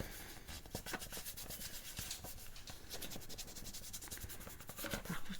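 Scissors or a blade cut through paper for a pop-up scrapbook album, close and quiet. Rapid, repeated scratchy snips and rasps go on for about five seconds, with no talking.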